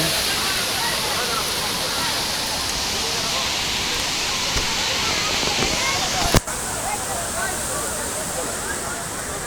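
Mayabi waterfall at Jaflong in Sylhet pours during rain, a steady loud roaring rush of falling water that fills the whole stretch, with a brief sharp knock near the end and faint voices beneath.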